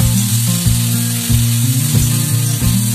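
Loud, continuous sizzling and bubbling as water is added to pumpkin and potato frying in a hot pan, with a few soft stirring knocks, and no talking.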